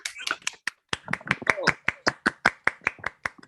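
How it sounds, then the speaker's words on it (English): Brief speech, then sharp hand claps for a comedian at a virtual stand-up show, in a steady rhythm, about three per second, close and distinct rather than a dense crowd. "Everyone give a big round of applause for James Camacho."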